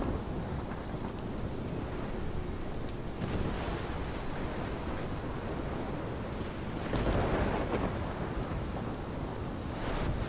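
A steady thunderstorm from the video game Life Is Strange fills the background with continuous rain-like hiss and a low rumble that swells briefly near the end, faint and without speech.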